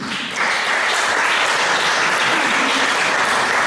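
An audience at a gathering of twinned towns in Auxerre applauds warmly, a dense, steady burst of clapping that starts abruptly and carries on without talk.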